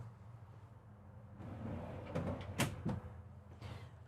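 Inside a Renegade Valencia 38RB motorhome, a large drawer rolls on its slides and then bumps closed. A soft, near rumble is followed by a few sharp clacks, and no voices are heard.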